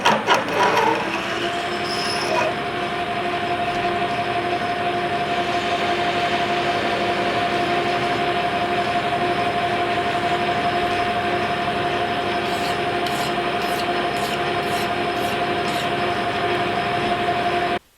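A lathe or cutting tool chamfering the inside of a metal heim joint spacer for offroad suspension, a loud steady machining drone with a sustained tonal whine and brief squeals, close and continuous without speech.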